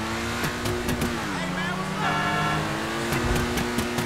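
Lamborghini engine in GTA 5 revs and shifts pitch, with a steady tone dipping then climbing again, accompanied by tire noise and clicks while someone talks over it.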